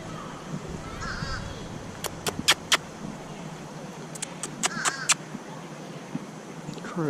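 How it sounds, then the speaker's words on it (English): A crow caws in a garden in Hoover, Alabama, giving two short clusters of sharp calls over a soft outdoor background, with faint voices nearby. "Oh, look at that beautiful crow."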